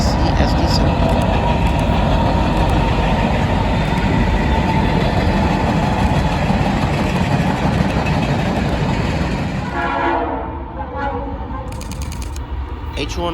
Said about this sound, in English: A431 with a C44-9WL and IC-SD7.